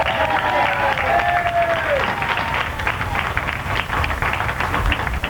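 Audience applause and crowd noise fill a hall, dense steady clapping with a voice briefly heard at the start, sustained throughout.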